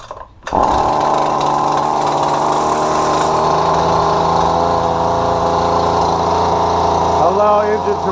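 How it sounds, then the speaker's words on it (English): A small two-stroke Husqvarna 128LD string trimmer engine fires up after a brief rattle and settles into a loud, steady buzzing idle close by. "And pull rope until engine starts."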